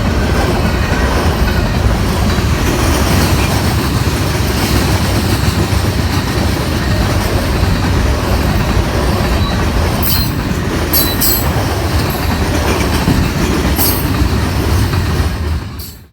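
A Union Pacific local freight train passes with SD70M locomotives 5113 and 4548 leading. It makes a loud, continuous close rumble of rolling cars, with sharp wheel squeals and clacks near the end before it fades abruptly.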